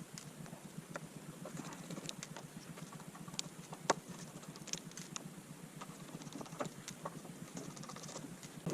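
Screws are backed out of a computer hard drive being taken apart for scrap metal, producing faint, irregular small clicks and ticks close by against a quiet background.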